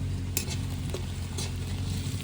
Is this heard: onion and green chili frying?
yes